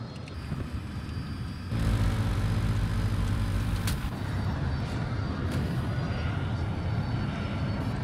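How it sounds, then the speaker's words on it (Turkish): A loud, steady drone of airplane engines in the video game Battlefield 2042 fills the scene, rising sharply about two seconds in and rumbling on with a low, thick roar. "bizim uçaktan yine değişik sesler geliyor"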